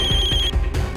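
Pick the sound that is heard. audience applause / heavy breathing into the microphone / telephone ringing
telephone ringing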